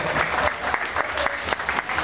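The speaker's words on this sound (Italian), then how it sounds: "Facciamo un applauso a tutto lo stabile" Applause at a birthday party, a close, loud round of many people clapping with an uneven rhythm of sharp claps throughout, no voices.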